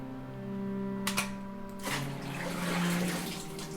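Water drains away in the video game Homesick, a steady hollow gurgling flow with tonal background music underneath, brief splashy bursts midway, no speech.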